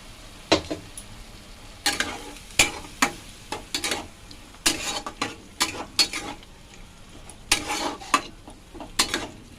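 A potato paneer curry sizzles in a pan after rinse water from a mixer jar is poured in, with repeated bursts of spoon stirring and scraping against the pan over a constant hiss.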